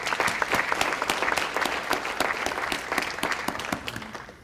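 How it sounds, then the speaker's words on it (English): Audience applause for Dr. Dolce at a New Jersey civic event on cities and suburbs, a steady dense burst of clapping from a full room that holds for several seconds and then begins to thin out. "Can we give him all a round of applause?"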